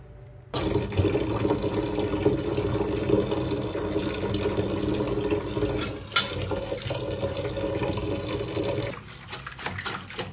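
Coriander leaves being washed by hand in a fairly deep bowl of water, steady close splashing and sloshing with swirling water texture throughout, a few sharper splashes near the end.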